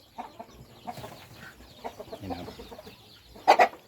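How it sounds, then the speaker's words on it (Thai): Five-month-old chickens cluck in scattered, soft calls nearby, ending in a louder pair of squawks close by. "ไก่ห้าเดือนนะครับชุดนี้เป็นไก่ห้าเดือนนะครับ"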